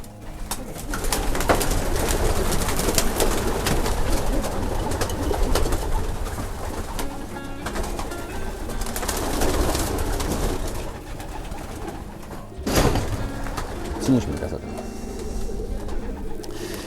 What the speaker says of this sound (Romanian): Super porumbei.